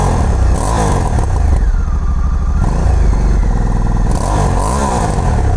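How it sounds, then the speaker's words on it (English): A 2020 Honda Africa Twin 1100 motorcycle revs hard and close, its exhaust note rising and falling in repeated loud pulses with no talking over it. "I really grew to like the sound of this bike, especially as you accelerate hard through the low to mid range."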